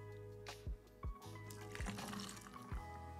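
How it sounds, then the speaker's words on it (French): Matcha tea is poured over ice cubes in a glass, a soft continuous trickle beneath a low steady hum, punctuated by several short dull knocks and faint clinks, heard close and quiet with no voices. "Et je vais verser le matcha par-dessus."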